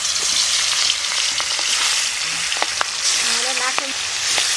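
Magur catfish sizzles steadily in hot mustard oil in a kadai, a close, even hiss broken by small pops and a few light clinks of utensils.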